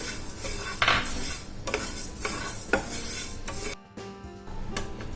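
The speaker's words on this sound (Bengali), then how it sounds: "চালটা দিলে মিশিয়ে দিচ্ছি" Rice being stirred into yogurt in a pot, with repeated scraping strokes of a utensil against metal, a soft sizzle underneath and a brief lull before stirring resumes.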